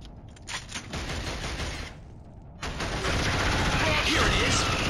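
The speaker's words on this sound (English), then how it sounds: "Oh, machine gun." Machine gun fire in Killzone HD, a continuous rattling stream of rapid shots that briefly pauses and then resumes louder and closer, alongside mechanical clatter.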